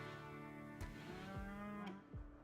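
A cow lowing in RimWorld while being milked on a colony farm, with two drawn-out, faint moos in a row over a quiet game backdrop.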